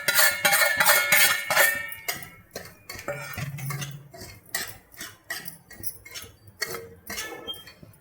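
Semolina (rava) roasting in a hot kadhai as a spoon scrapes and clinks against the pan, in quick repeated metallic strokes, loud at first and then softer and more spaced out.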